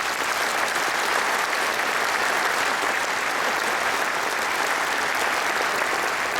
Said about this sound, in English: Let's give them, all of them, our now new members, a warm welcome and a big applause.